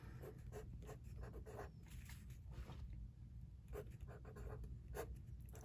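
A pen scratches out a proportions math problem in short bursts of strokes, close and quiet against a low steady background hum, with brief pauses between the written marks.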